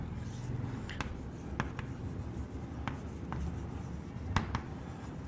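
A teacher writing on a board during a physics class, with soft continuous scratching and rubbing strokes punctuated by sharp taps, close and fairly faint, with no talk.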